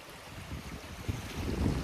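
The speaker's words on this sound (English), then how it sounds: "the water now is over the road at our culvert" Floodwater from heavy rain and snowmelt rolling over a road at a culvert, a dense, rushing low roar mixed with wind buffeting the microphone, steady and loud throughout.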